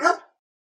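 Dog barks once, a single short, loud, close bark that cuts off abruptly, followed by silence.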